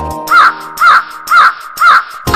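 A crow caws four times, loud and close, each harsh call evenly spaced about half a second apart with brief quiet between.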